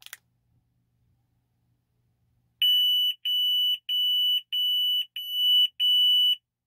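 A lineman's voltage detector near a power line gives a loud, high-pitched electronic beep that repeats six times in a steady rhythm after a short stretch of near silence.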